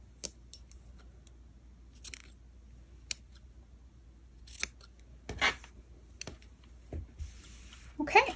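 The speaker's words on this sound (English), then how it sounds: "you can just trim those tails" Scissors snipping crochet yarn tails on a triangle shawl tassel, a series of short crisp snips spaced irregularly over a quiet background, close and clear.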